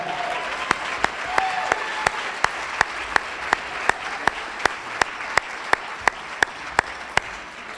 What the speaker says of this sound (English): How about a round of applause for all our new team leaders here tonight?